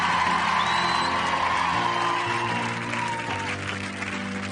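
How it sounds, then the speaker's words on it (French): A television game-show studio audience applauds loudly and continuously, with a few whoops and cheers mixed into the clapping, which eases off slightly toward the end. "Vous pouvez les applaudir très très fort"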